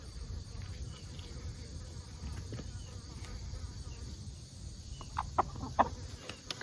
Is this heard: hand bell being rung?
no